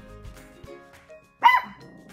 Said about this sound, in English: And now she's gonna woof at them.